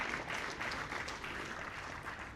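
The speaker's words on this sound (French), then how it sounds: "Bravo, on peut l'applaudir." Audience applause at a French jury special-prize ceremony as a UDI Paris vice-president is welcomed on stage, a dense, steady wash of clapping that holds at an even level throughout.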